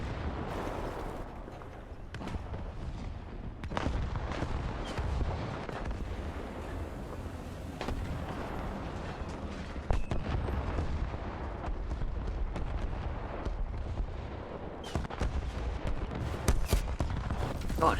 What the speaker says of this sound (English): how many friggin' artillery strikes did get dropped on this spot?